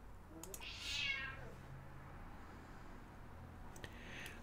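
A cat meows in the space colony game Space Haven, one drawn-out mid-level meow near the start and a fainter cry near the end, heard amid game ambience.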